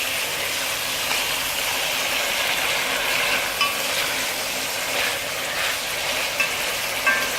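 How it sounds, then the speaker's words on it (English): Salt mackerel is stirred in a pan of hot oil and ketchup, sizzling and frying with a continuous loud hiss. Scraping stir strokes surface now and then over the steady crackle, with no voices. "I basically want the ketchup to cook in the oil before I stir the salt mackerel up with it."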